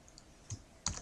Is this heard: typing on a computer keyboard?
yes